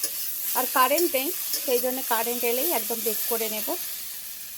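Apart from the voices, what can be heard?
frying food in a covered pan, sizzling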